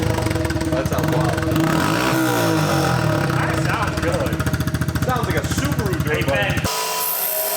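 Nissan 180SX engine revving hard with a raspy, Subaru-like burble, the pitch sweeping up and down through several rises and falls, loud and close, then cutting off abruptly near the end; voices murmur beneath.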